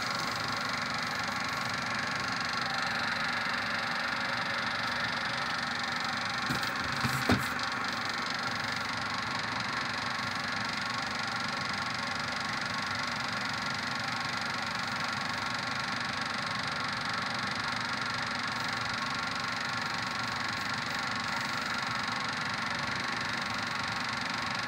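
Servis ExtraSpin 503 spin dryer spinning, a quiet, steady motor hum with a faint whine that holds constant throughout, broken only by a brief knock partway through.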